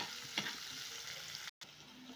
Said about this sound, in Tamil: இப்போ நறுக்கி வச்ச வெங்காயத்தை சேர்த்துடலாம். வெங்காயம் நல்லா வதக்கிடலாம்.